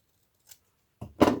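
Scissors snip through sturdy thick paper in two quick, close cuts, a faint short snip followed by a louder crunching cut, with no talking.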